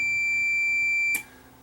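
A multimeter gives a steady, clear, high-pitched continuity beep that holds for about a second, then cuts off with a small click, leaving quiet background hum.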